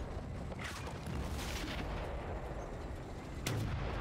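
Artillery gunfire in Battlefield Bad Company, a few heavy booms standing out against a constant rumbling battle background, with one sharper blast late on.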